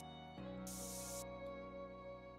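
A spray can hisses in a video game, one steady burst of about half a second standing out loud and bright over a constant background hum and game music.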